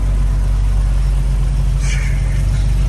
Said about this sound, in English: You hear that idle?